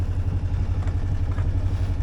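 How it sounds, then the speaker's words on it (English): A sailboat's inboard engine running just above tick over, a low, steady chugging throb with a faint mechanical clatter, close and continuous, no voices. "Just slightly above tick over to take any tick over wobble out of the engine"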